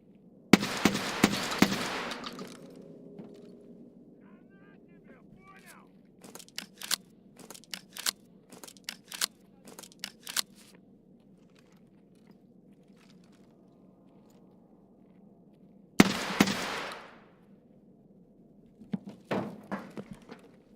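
Gunshots ring out in Escape from Tarkov as sharp, loud cracks, first in a dense burst, then scattered single shots, and another quick volley later over a low background hum.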